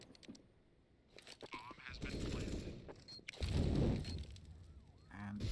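Gunfire in a Counter-Strike match, an ESEA Open League game, with scattered shots early on and then two louder bursts of rifle fire, including an AK, near the middle and end, alongside faint game noises.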